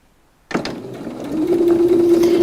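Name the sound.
sewing machine stitching a fabric seam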